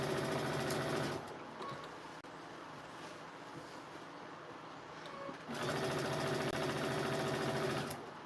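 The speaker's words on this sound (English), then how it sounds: "I bought a previously used sewing machine, Baby Lock Aria." A used Baby Lock Aria sewing machine stitches in two steady, loud runs of rapid mechanical whirring, with a short quieter pause between them and no talking.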